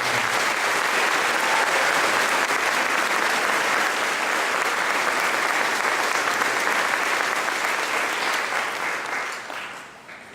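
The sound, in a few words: round of applause at a graduation ceremony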